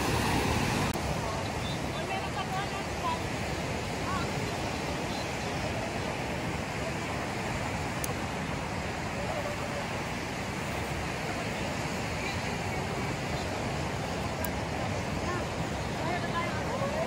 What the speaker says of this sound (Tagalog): Tabi ng dagat, naririnig nyo ba sila?